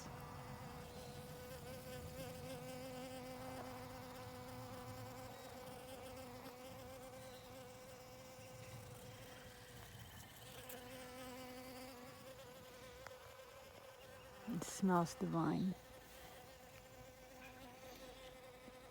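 Bees buzz steadily around garden lilies, a continuous close droning hum that swells briefly near the end, with a short spoken remark partway through.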